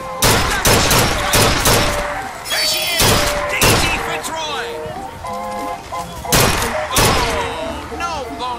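Rapid gunshots crack out in a Bioshock Infinite shooting gallery, several sharp bursts in quick succession amid clanging target hits and a bright carnival-style music bed, with a voice talking over it.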